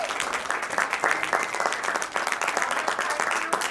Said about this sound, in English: let's begin with a huge round of applause, please